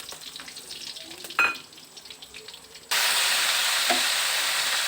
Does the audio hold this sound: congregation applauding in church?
no